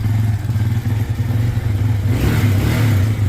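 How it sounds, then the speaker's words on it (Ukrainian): A cold motorcycle engine idles close by on choke with an uneven, chugging low putter, rising slightly in the last second. "як на ньому торохтить двигун"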